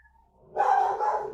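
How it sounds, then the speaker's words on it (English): A dog gives a single close, fairly loud bark that trails off into a short strained yelp at a home, heard alone after a moment of near silence. "my dogs are going crazy, which is why I keep going mute"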